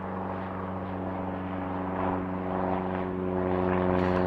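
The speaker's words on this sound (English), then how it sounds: "we got a WestJet 737" A WestJet Boeing 737 jet airliner at Kelowna airport gives a steady, moderately loud engine drone with a low tonal hum, holding evenly and swelling slightly toward the end, with no talking.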